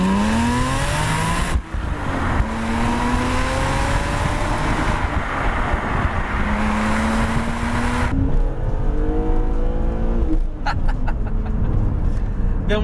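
BMW Z3 M Coupé with a naturally aspirated engine on a test drive, loud and close as the engine revs rise and fall through several gear changes, with tire noise and wind.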